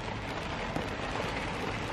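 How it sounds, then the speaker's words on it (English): Heavy rain pours on a car parked at an outlet mall, a steady, dense, loud hiss of drops with no talk. "it's pouring down rain"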